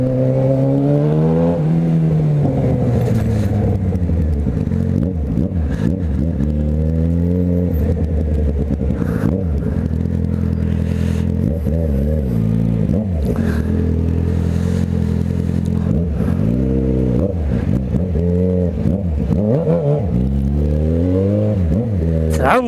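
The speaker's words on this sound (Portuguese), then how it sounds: "Trânsito infernal" Heavy street traffic with a motorcycle, a Yamaha XJ6, in the mix. A dense, continuous engine rumble rises and falls as engines rev and accelerate, steady and close throughout, with a voice now and then.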